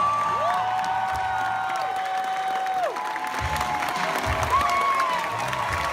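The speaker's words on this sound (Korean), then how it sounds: "물론 그들의 팬들은 이렇게 환호하면서 보기도 했지만요." Fans at a multimedia show at Everland theme park cheer and applaud steadily over a sustained tone and background music, with occasional shouts rising above the noise.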